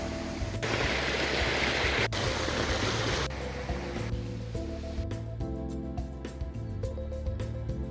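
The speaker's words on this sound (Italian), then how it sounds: "Guardiamo il fiume." A steep mountain river near Passo del Fòo rushes in a loud, steady roar for the first few seconds, then fades beneath tonal music.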